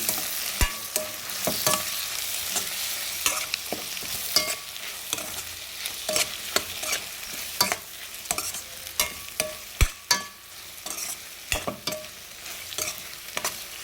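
Spoon stirring salt, turmeric and chilli powder into egg curry in a pan, with repeated close scraping strokes in an irregular rhythm over a low, steady sizzle, no voices.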